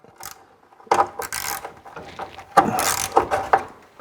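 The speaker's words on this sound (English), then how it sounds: "So let's see if we can get these bolts undone." A ratchet works at bolts on a donor truck being torn down for a budget rat truck build. The close, clicking bursts come in two main spells with quieter gaps between them, and nobody speaks.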